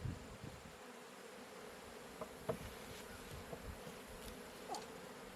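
Honeybees buzzing around a Layens hive outdoors, with a steady close insect hum and a few louder individual bees passing near, fairly faint overall.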